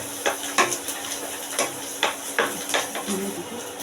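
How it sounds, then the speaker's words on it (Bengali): Onions frying in a pan for egg curry, stirred with a utensil that scrapes and clinks against the metal in repeated short strokes over a soft steady sizzle, close and fairly quiet. "এই যে পেঁয়াজটাকে আমরা ভাজা ভাজা করার জন্য এটাকে ভালো করে নেড়ে নিচ্ছি"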